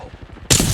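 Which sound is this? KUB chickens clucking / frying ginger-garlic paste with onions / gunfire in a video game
gunfire in a video game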